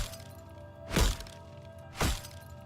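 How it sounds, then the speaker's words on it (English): Two separate glassy cracks with heavy low thumps, about a second apart, in the video game Goddess of Victory: Nikke, loud against a quiet background hum. "That sounds like glass shattering."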